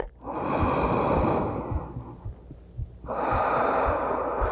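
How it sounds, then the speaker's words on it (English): Deep, slow yoga breathing close to the microphone: a long, loud exhale, a brief pause, then another full breath, airy and steady with no speech. "One more breath."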